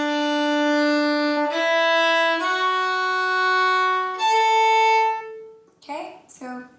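Solo fiddle plays a phrase of the Manx tune Keayrt Hug Mee Graih, sustained bowed notes that step through several pitches and drop to an open D, close and clear, ending in a few short stray sounds.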